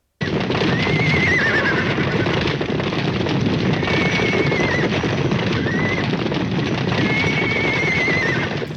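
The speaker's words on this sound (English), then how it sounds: "Shots from beneath wagons as 40 horses roar past." A thundering mass of about forty horses galloping past in a 1957 western film scene, continuous loud hoof rumble with repeated neighs and whinnies layered on top throughout.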